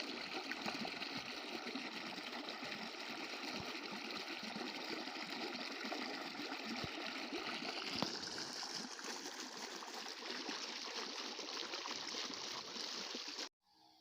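Water pouring steadily from a borewell outdoors, a continuous close rushing and splashing gush that holds level for most of the time, then cuts off abruptly near the end.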